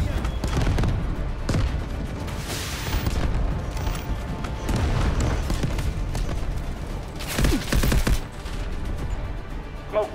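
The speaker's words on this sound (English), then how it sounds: "Artillery ready for barrage." An artillery barrage in the video game Delta Force, a dense, continuous roar of booms and rapid gunfire with heavy low-end rumble, while radio-style voices speak over the battle.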